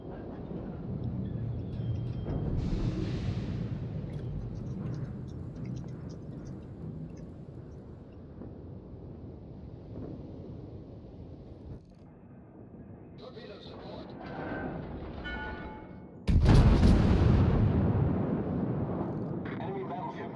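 Naval gunfire from a Dunkerque battleship in World of Warships: continuous low rumbling battle noise with a loud, heavy boom of a salvo near the end, under talk.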